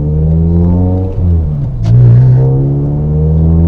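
A Mazda NC Miata's engine drones loud and close at a low steady pitch while the car pulls out of a driveway, with a brief dip and a scrape partway through before the rumble rises slightly.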